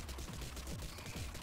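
Rapid, dense bursts of gunfire from bullets fired in the video game Rounds, overlapping continuously and loudly for the full stretch with no pauses.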